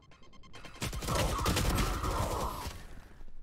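Gunfire bursts in a multiplayer video game, heard as a dense, loud rattle of rapid shots swelling in the middle and tapering off, with no talk over it.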